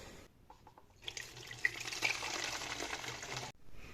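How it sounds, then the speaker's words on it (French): Homemade cough remedy poured through a funnel into a rinsed plastic iced-tea bottle, a steady trickling pour lasting a couple of seconds, fairly close and alone with no voices. "Maintenant on va donc mettre notre breuvage en bouteille."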